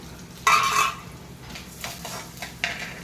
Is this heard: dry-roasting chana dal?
yes